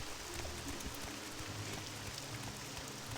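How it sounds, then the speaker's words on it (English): Steady rain in the Morrowind video game fills the scene as a dense, even hiss of falling water, fairly soft and continuous with no voices. "thankfully it sounds like the rain is stopping"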